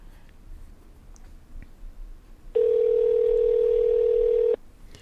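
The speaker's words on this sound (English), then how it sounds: "So Copper Dan, I'm ringing up the 507 number." A telephone ringing tone heard while calling a number: a single steady, loud electronic tone lasting about two seconds, preceded by quiet background rustling.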